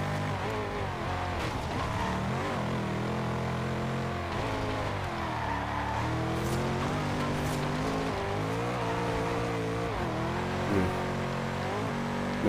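A car from the Forza Horizon 2 racing game drives at speed, its engine droning and shifting pitch continuously with brief tire squeals as it slides, loud and unbroken throughout without speech.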